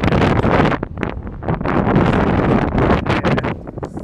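Strong, bitterly cold wind buffets the microphone outdoors near a bridge, a loud continuous roar of rumbling gusts with brief lulls and no talk.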